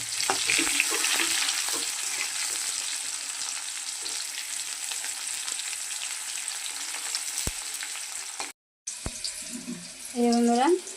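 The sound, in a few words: chopped onion frying in oil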